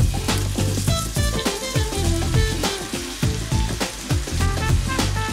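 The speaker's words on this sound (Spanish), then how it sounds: "Después la ponemos en una cazuela con ajos y aceite" Thinly sliced onion fries with garlic in oil in a cooking pot, giving a steady, loud sizzle with crackling pops and occasional clinks of stirring throughout.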